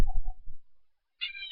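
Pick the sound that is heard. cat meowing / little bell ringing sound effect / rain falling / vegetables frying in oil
cat meowing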